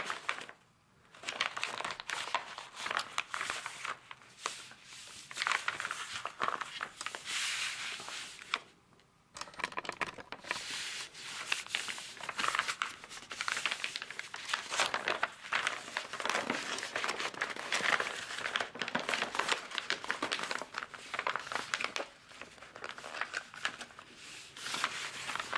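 A plastic shopping bag crinkles and rustles steadily as its sides are folded in for a kirigami unicorn, with close, continuous crackling that is briefly interrupted twice.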